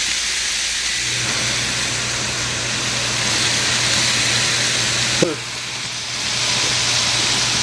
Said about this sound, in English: So while that is frying up, I'm going to start on my tomato sauce and my ragu.